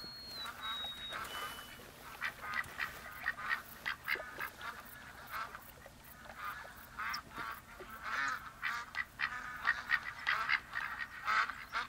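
Mallard ducks along the edge of a lake in The Hunter hunting game give repeated quacking and honking calls in irregular bursts, moderately near over a soft outdoor ambience, with no talking.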